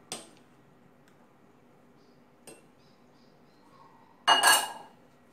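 Sukiyaki being served into a dish in a home kitchen, with a few faint, sparse clinks of dishes and utensils, then a louder, brief clatter of crockery near the end.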